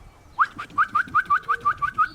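Pigeons at a loft trap give a rapid series of about ten short coos, evenly spaced and close by, with no one speaking.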